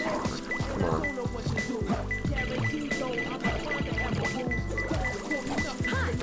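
Water level rising in a Sonic Adventure 2 stage, heard as continuous bubbling, pouring liquid beneath looping game music and tones, steady and fairly close, with occasional talk over it.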